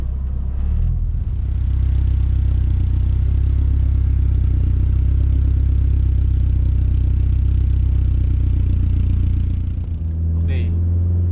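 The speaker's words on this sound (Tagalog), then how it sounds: "so yun yung tunog ng exhaust." BMW Z3 project car with a newly fitted exhaust, running close by with a loud, steady low engine drone that holds for about ten seconds before settling, then a brief change in tone at the end.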